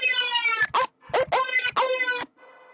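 Several short, harsh synth screeches, high-pass filtered with EQ, with a buzzy, bright tone, separated by brief gaps, followed by a faint noisy tail.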